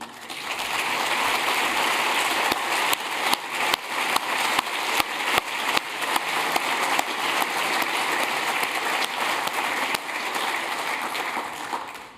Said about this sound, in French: de promouvoir, on va dire comme ça, au rang de président d'honneur par votre acclamation, David Lappartient